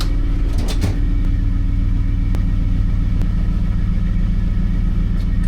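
A big-block Ford Bronco engine rumbles steadily as the lifted truck moves in four-high, giving a continuous loud, low drone with no talk over it.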